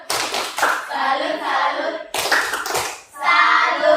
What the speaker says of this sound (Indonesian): Untuk kelompok Muhammad Yamin, berikan tepuk salut dulu.